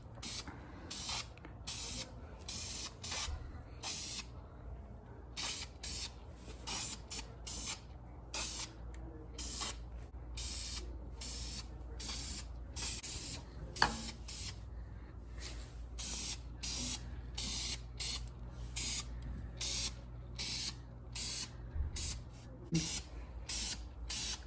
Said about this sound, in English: if you do spray paint the correct way